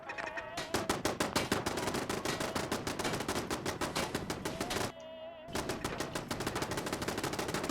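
Rapid bursts of automatic gunfire in Fallout 4 from a defended settlement, loud and continuous, with a brief pause before the firing resumes.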